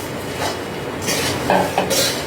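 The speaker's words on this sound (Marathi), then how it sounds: "आता ह्याच्यात आपण मुरमुरे घालूया" Puffed rice tipped into hot oil with bhadang masala in a pan and stirred, giving a close scraping, rustling clatter with soft sizzle and a few sharper spoon knocks against the metal.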